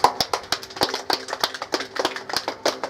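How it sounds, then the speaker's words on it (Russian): A small group claps at a camp, sharp separate hand claps in a loose, fairly steady rhythm, close and moderately loud with little else around. "Аплодисменты."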